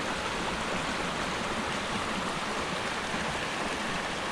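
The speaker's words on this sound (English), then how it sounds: "another little stream that flows underneath the path" A small stream running beneath a woodland path near a reservoir gives a constant, even rush of water, broadband and steady throughout, fairly close and with no voices.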